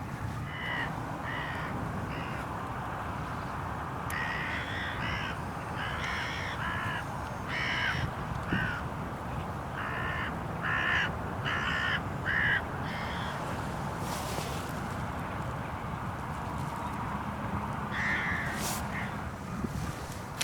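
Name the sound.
hooded crows cawing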